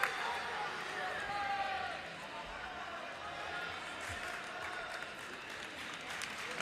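Crowd at a North Dakota State college wrestling match, Iowa State visiting, applauding a 133-pound wrestler with a steady, sustained roar of clapping and cheering throughout, with speech over it.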